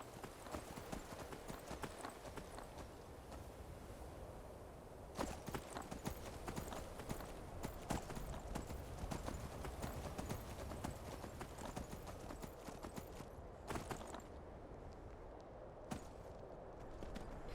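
Horse hooves in Skyrim clip-clop steadily at a walking pace, a continuous quiet rhythm of hoofbeats with game ambience underneath.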